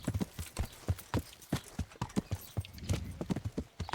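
Horse hooves clip-clop in a steady, brisk rhythm in the medieval video game Kingdom Come, close and continuous with no talking.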